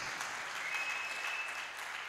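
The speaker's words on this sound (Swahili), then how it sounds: "Mpigie Yesu makofi mazuri kabisa." Worshippers in a church applaud for a short, even burst of clapping, soft and distant-sounding, sustained without pause or talk.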